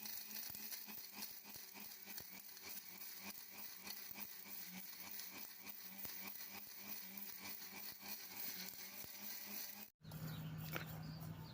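Ayurvedic herbs are ground together with shilajit, guggul and lime. A steady, dense whirring drone runs for about ten seconds, then cuts off abruptly into a quieter, lower hum.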